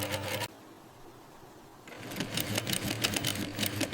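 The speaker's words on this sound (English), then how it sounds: "Each stitch is placed with precision for strength and durability." Industrial sewing machine stitching bras in a modern factory, running in loud rapid bursts, breaking off into a quieter pause and then starting again with a steady mechanical chatter.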